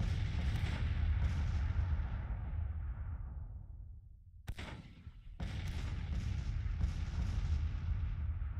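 Civil War cannon fire in Grand Tactician: a deep artillery boom slowly rolls away, then two more sharp blasts hit in quick succession and leave a long, heavy rumble.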